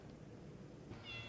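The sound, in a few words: cat meowing on a back porch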